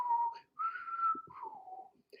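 A person whistles a short melodic phrase close up, with several sustained and gliding notes separated by brief breaths, imitating a tin whistle line from a song.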